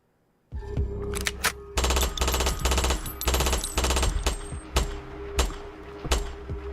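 Rapid gunfire bursts, loud and close, with rattling machine-gun strings separated by short gaps, starting abruptly after half a second of silence.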